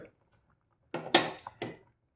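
A lid is lifted off a cooking pot of simmering fish molee, giving a few short, quiet metallic clinks and scrapes close by in an otherwise silent kitchen.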